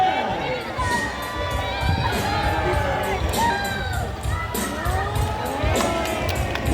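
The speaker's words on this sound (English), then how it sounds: "A round of applause for our raptors, our chickens, and our homing" An audience at an all-star bird show at Manila Ocean Park, featuring raptors, chickens and homing pigeons, responds with continuous crowd noise, cheering, whoops and children shouting, clapping audible throughout.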